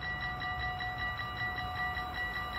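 A train passes through Roermond station in the Netherlands with a loud, steady rumble and sustained metallic wheel whine, close and continuous with no talk.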